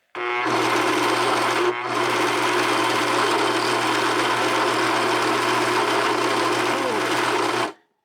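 A sewing machine with a failing motor runs flat out, a loud, steady whirring drone that briefly dips near the start and then holds until it cuts off abruptly.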